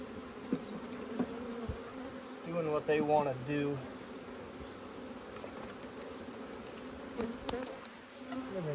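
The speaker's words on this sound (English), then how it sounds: "Dang these bees." Honeybees buzz steadily around hive frames during a queen-rearing inspection, a dense close swarm drone with a brief louder swell midway and a person talking quietly over it.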